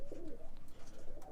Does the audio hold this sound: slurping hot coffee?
no